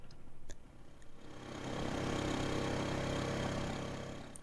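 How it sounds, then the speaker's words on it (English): A synthesized engine sound effect hums low, then swells into a louder, denser roar as it accelerates, holding steady before easing slightly, with a few faint clicks at the start. "we need to increase the pitch of the engine sound"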